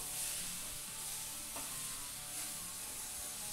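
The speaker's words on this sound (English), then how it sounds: "let's go ahead and sear the meat on all sides" Wild boar pork shoulder sears in a hot pan, giving a steady, dense sizzle of frying meat throughout, with faint clinks and stirring underneath and no talking.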